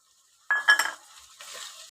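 Tomato paste goes into a pan of frying masala with a brief wet splat and clink, then a soft hiss of sizzling continues close by.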